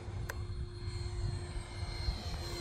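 An E-flite Viper 70mm electric ducted-fan RC jet flies past on a sunny day at a flying field, a steady whooshing whine held at moderate distance, with faint background noise and no talking.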